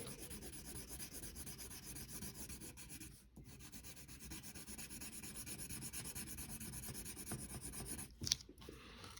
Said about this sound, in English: Just use the side of your pencil, because the point mostly just makes lines instead of colors